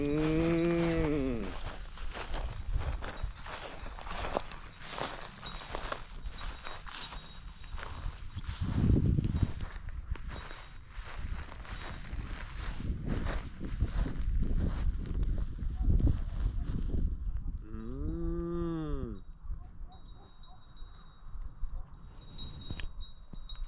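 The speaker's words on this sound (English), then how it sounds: "is communicating with the cows" Cows moo in a peaceful Romanian village surrounded by farms. Two long, drawn-out moos come at the start and near the end, over steady outdoor background noise and occasional shuffling steps.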